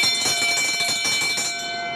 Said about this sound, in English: That's the loudest bell I've ever heard in any stadium.